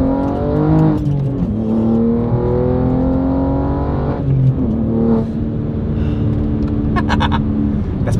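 A manual BMW G80 M3 engine revs loudly and continuously nearby, its pitch rising and dropping with throttle blips, while people talk over it.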